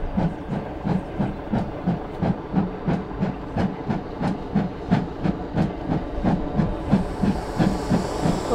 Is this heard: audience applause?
no